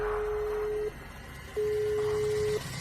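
A steady telephone calling tone on a call to a family member, two long close beeps separated by a short gap, clean and alone.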